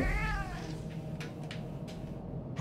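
A cat meows in the video game Murdered: Soul Suspect, a single drawn-out, wavering call near the start, followed by faint game ambience with a few soft clicks.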